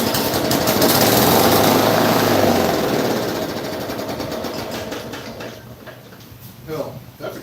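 A small lawn mower engine with a suspected carburetor fault is being pull-started. A loud, rough, rattling run-up fades into sputtering, and a few short tugs come near the end.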